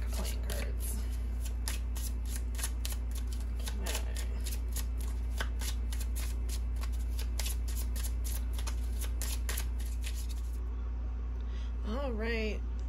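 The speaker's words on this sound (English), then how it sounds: "I love this size oracle card because it's so much easier to shuffle." Oracle cards about the size of a standard playing-card deck being shuffled by hand, a steady run of crisp riffling snaps that stops near the end, followed by a brief voice.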